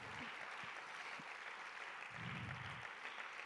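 A church congregation applauding at a worship service, a steady faint wash of clapping heard from a distance in a reverberant hall, with a few murmured voices and low thumps underneath.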